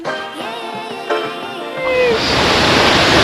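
Tutod Falls in Magallanes, Cavite roars with a loud, broad rush of falling water that swells in and takes over after a short stretch of tonal sound, continuing steadily to the end.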